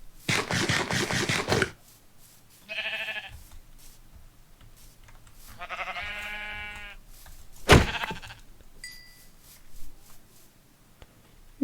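Sheep bleat in a survival video game, several separate calls with gaps between them, mid-distance and fairly clear, mixed with bursts of rustling and clatter from in-game action.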